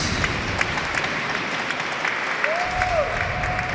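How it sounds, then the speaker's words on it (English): A crowd applauding in Vanderbilt Hall at Grand Central Terminal during a teen masters final, steady, loud clapping echoing off marble walls, with a brief tonal whistle-like sweep near the end. "Nice crowd and a lot of applause rattling the rafters and the marble here at Vanderbilt Hall at Grand Central Terminal."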